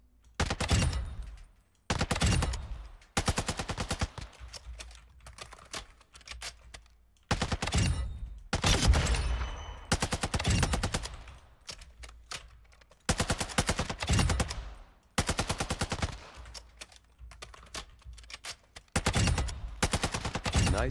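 Light machine gun fire in a shooting video game, loud sustained bursts of rapid shots lasting one to two seconds each, separated by short pauses, repeated throughout.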